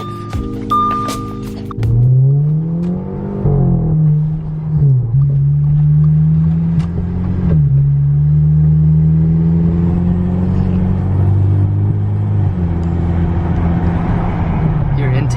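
An Audi A4 engine with an Integrated Engineering Stage 1 tune on 93 octane idles and revs through a loud exhaust, rising and falling in pitch, with a voice briefly audible near the start.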